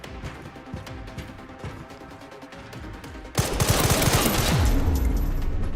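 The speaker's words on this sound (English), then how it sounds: "Who's shooting me right now?" Rapid automatic gunfire erupts in the Resident Evil Requiem video game, a dense, loud burst of shots that follows a quieter stretch of faint, scattered noise.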